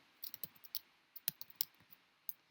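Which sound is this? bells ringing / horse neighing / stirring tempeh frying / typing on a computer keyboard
typing on a computer keyboard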